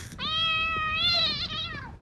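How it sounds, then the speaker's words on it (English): A cat yowls in a movie scene, one long, loud, drawn-out meow with a clear rising and wavering pitch, held for nearly two seconds before cutting off. "It's funny because a cat got burned."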